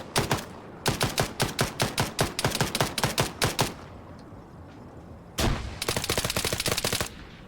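Rapid bursts of automatic gunfire in a video game, a long steady string of sharp shots, a pause, then a second shorter burst, loud and close, with no talking.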